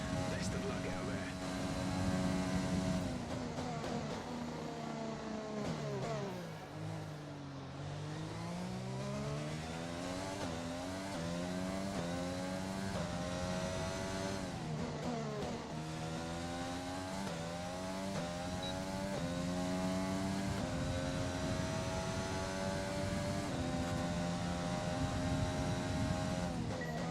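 Race car engine in the F1 2020 game, a Spider-Man liveried car lapping a practice session in China, its pitch climbing and dropping through gear shifts and corners, steady and loud throughout with a voice talking over it.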